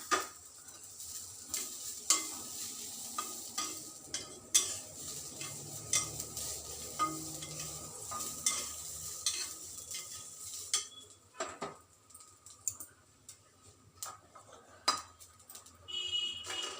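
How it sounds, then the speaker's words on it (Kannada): Grated coconut roasts in a frying pan, a faint sizzle under repeated scrapes and clinks of a metal spoon against the pan, with no one speaking. "ಈಗ ಕೊಬ್ಬರಿನ ಹಾಕಿ ಒಂದ್ಸಲಿ ಸುಮ್ಮನೆ ಒಂಚೂರು ಹುರಿತೀನಿ ಅಷ್ಟೇ"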